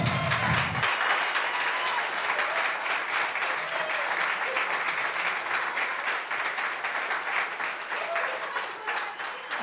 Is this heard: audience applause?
yes